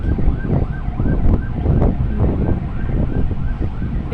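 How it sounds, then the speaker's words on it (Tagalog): Wailing vehicle sirens rise and fall over a dense, steady roar of street traffic heard from up high above the road, with wind buffeting the microphone throughout. "sari-saring tunog ng mga sasakyan ang klarong-klaro dito sa taas"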